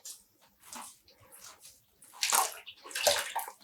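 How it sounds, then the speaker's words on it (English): Hand-squeezing wet, freshly dyed and rinsed yarn over a small bowl, giving soft squelches and drips of water in irregular bursts, quiet at first and louder toward the end. "I'm just squeezing the water out."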